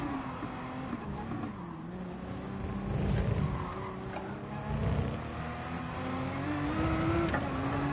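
A race car in Gran Turismo at the Corkscrew, engine droning and shifting pitch with tire squeal while overtaking, other cars audible nearby, at a fairly low, steady level.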